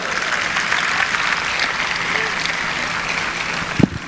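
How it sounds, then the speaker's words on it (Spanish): An audience applauds after a speech at a Zionist council gathering in Mexico, with steady, sustained clapping across the room at an even level and one sharp thump near the end. "Pido un aplauso por eso."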